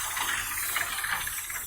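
Waste steam from Lucy, a large wood-fired steam engine, hisses steadily from the back of a building at a tractor show, a continuous broad rush with faint mechanical clicking and rattling underneath.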